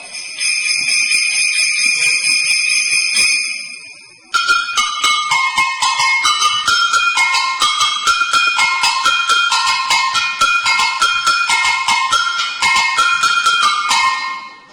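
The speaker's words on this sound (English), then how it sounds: "some of the metal instruments, the sleigh bells" Bright metallic bells ring out, first a sustained shimmering tone, then rapid rhythmic jingling strikes continuing steadily until the end.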